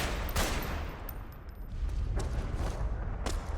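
A PKM machine gun fires in Metal Gear Solid 4 as a few faint, rough bursts of gunfire over a low rumble, with no speech.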